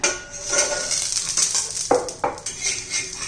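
Metal pan lid lifted off a pan on medium gas while a pea and gram-flour flatbread cooks, with a couple of clear clanks and clinks among soft kitchen clatter and a faint sizzle.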